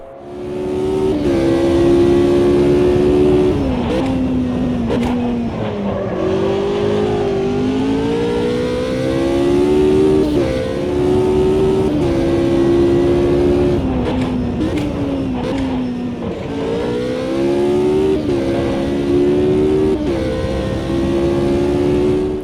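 A race car engine in the video game Automobilista 2 roars continuously with pitch rising and dropping through braking, shifts and corners, loud and close throughout, with no talking.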